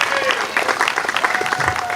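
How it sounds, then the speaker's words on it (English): A short burst of lively applause from a crowd at an outdoor political Labor Day picnic, brisk clapping with a voice faintly audible underneath. "you just beat me on the applause right there"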